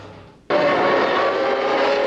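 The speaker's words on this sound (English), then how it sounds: "a long train of cars coming down the start-finish straightaway" A line of 1992 Formula One cars at the Spanish Grand Prix bursts in with a sudden loud engine howl on the start-finish straight, holding a sustained roar after a quiet opening moment.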